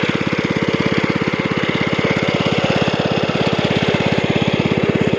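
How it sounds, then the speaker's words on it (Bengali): An engine-driven pump draws water from a pond beside a paddy field, running loud and close with a steady, fast, thumping chug and a broad mechanical roar, with no speech. "এই হচ্ছে আমাদের মেশিন চলছে এখানে।"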